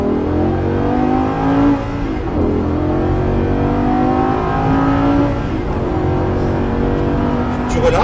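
A Lamborghini Gallardo LP560 accelerates on a race circuit, its engine note climbing through rising revving sweeps with brief dips between gear changes, heard loud and close from inside the car.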